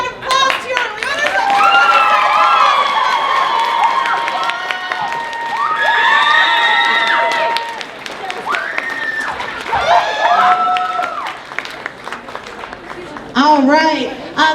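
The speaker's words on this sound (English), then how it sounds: "So everybody give a round of applause to your winners." A crowd at the Colorado Anime Fest 2017 cheers, whoops and shrieks for the contest winners, with clapping mixed in. The sound is loud and sustained, with a fresh burst of excited yelling near the end.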